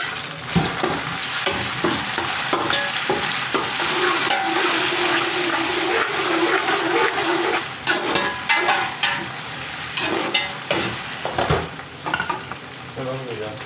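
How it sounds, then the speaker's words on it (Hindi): Onion browning in a pan with ginger paste added fries with a loud, dense sizzle, broken by frequent scraping and stirring strokes that turn choppier toward the end; no voices. "अब ये आप देख सकते हैं कि ये प्याज ब्राउन हो रहा है"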